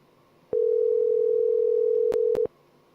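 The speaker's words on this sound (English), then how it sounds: "Cai Cai, if you're on YouTube and you hear the phone ringing, it's coming from me." A telephone call tone plays while dialing a number, a single steady tone held for about two seconds with a couple of sharp clicks near its end, clear and loud, no talking.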